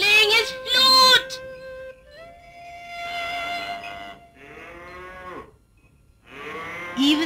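Cows moo in a pastoral scene of herding by flute music, several long, drawn-out lowing calls from more than one animal, fairly close and loud, separated by short pauses.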